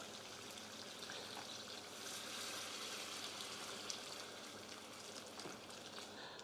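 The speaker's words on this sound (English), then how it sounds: "Now I'm going to add some more water." Water poured into a pot of lamb korma with spices in oil, a steady soft pouring and sizzling wash that runs continuously at low level with no voices.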